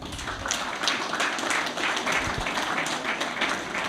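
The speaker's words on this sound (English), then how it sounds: "round of applause again for this great team here" Audience applause for a football team at an old scholars football association awards evening, a dense sustained wash of many hands clapping filling the room at steady volume throughout.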